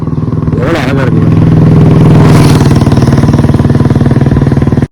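Motorcycle riding along a forest road lined with bamboo, its engine a steady, close, pulsing drone that holds loud throughout with a brief rattle early on.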